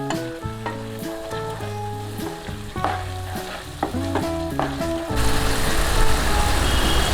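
Masala with curd is stirred in a hot pan, with a spoon scraping and clinking in rhythmic strokes over a steady sizzle that swells louder in the final seconds.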